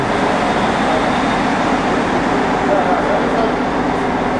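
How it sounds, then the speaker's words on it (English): Steady ambience at the Ljubljana train station in Slovenia, a continuous rumbling wash of rail and crowd noise with a murmur of voices in the background. "we're here at the Ljubljana train station"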